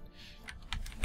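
Several crisp keyboard keystrokes on a computer, tapped in a short uneven burst that grows louder toward the end, close and alone without voices.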